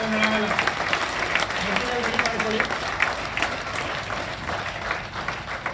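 An audience at a talk for parents and students breaks into loud, sustained applause, dense overlapping clapping that carries on through the whole stretch and eases slightly near the end.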